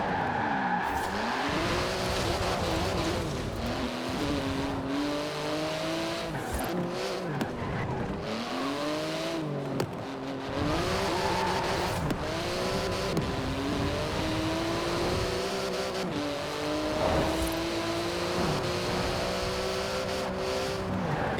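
In the Forza Horizon 4 racing game, a Porsche GT2 RS with a titanium exhaust races hard. Its engine revs up and down through gear changes, with repeated tire squeals and skids, close and continuous with no talking.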